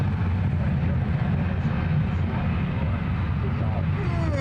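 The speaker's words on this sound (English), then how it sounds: "I got the plane coming in overhead." Broad steady engine roar of an airplane coming in overhead, loud and continuous with a deep low rumble and no clear rise or fall.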